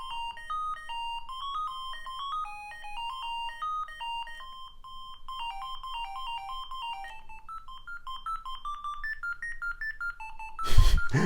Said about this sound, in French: on est sur des sonneries polyphoniques